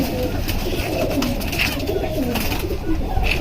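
Domestic pigeons kept at home coo softly in low murmuring phrases under a constant wash of room noise.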